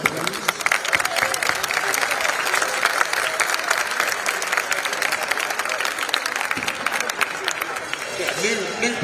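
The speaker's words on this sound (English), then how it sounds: "So everyone just a massive round of applause." Spectators, players, coaches and referees clapping at a university handball Final Four event, sustained dense applause filling the hall with some cheering mixed in.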